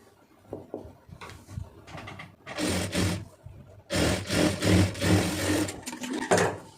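A sewing machine runs in several bursts of stitching on a lined blouse, loud and close, with short pauses between runs and some quieter handling sounds at the start.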